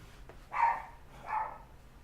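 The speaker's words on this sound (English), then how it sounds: "my dog is excited in the background" Two muffled, excited barks from a dog somewhere in the background of a room, spaced under a second apart, moderately loud against a faint hum.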